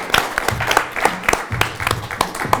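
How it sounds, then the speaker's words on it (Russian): A short burst of lively hand clapping from a small group, sharp irregular claps continuing throughout. "Ваш аплодисмент."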